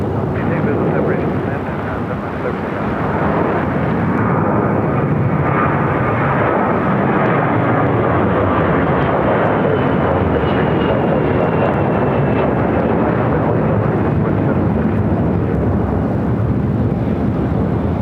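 Airliner departing from a runway at Phoenix airport, a loud, steady broadband engine roar that holds for the whole stretch with a slowly shifting tone, while radio voices talk over it.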